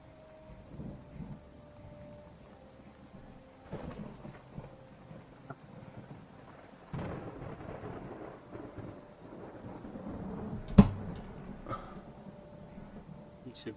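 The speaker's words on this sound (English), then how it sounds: "in the faint distance you can hear the rumbling of thunder" Distant thunder rumbling in a stormy setting, several low, soft rolls spread across the stretch with a faint rain-like hiss, and one sharper crack near the end.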